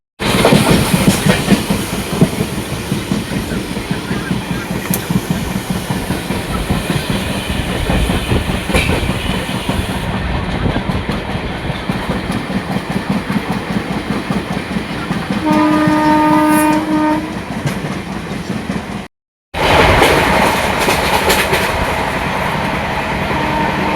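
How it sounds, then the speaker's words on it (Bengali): A moving passenger train heard from inside the carriage, with loud continuous rumble and rhythmic clickety-clack, a sustained horn blast partway through, then a brief dropout before the rolling noise resumes. "মাত্র ট্রেনে উঠে গেছি"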